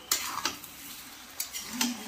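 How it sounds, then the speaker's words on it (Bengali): A spice paste of ground poppy seed, mustard, radhuni, ginger and green chili, loosened with a little water, fries in a pan for shukto. A soft, close sizzle runs underneath a few quick stirring scrapes. "ওই পোস্ত, সর্ষে, রাঁধুনি, আদা, কাঁচা লঙ্কা, ওই বাটা। আর একটু জল দিয়ে দিলাম দুই। এটা ভালো করে ভেজে নেব।"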